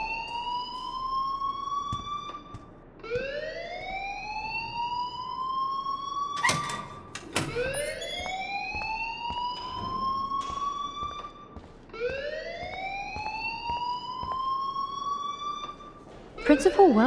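A rising, wailing electronic alarm in the video game Life Is Strange repeats in long sweeps every few seconds, loud and steady, with brief clatters and people talking underneath.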